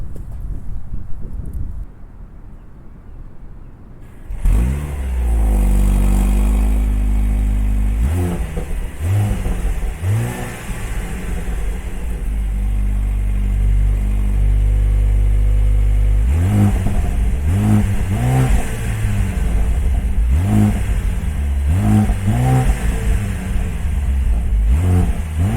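A 2024 Mercedes GLC43 AMG accelerating on the road, heard from inside, with a deep engine drone that swells through repeated rising and falling revs as it pulls through the gears, loud and continuous after a quieter start.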